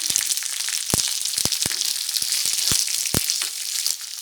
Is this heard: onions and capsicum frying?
yes